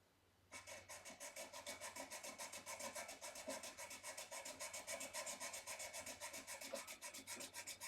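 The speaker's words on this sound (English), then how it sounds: "And that's going to radius this nut" A Tusq guitar nut filed to the fretboard radius on a Squier Strat SE, giving a steady, fast back-and-forth rasp of even strokes that starts abruptly and carries on close and loud, with no voices.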